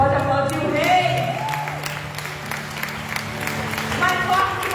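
Congregation applauding in a church during a worship service, a dense wash of clapping under sung or spoken melodic voice and organ-like sustained tones, fairly loud and continuous.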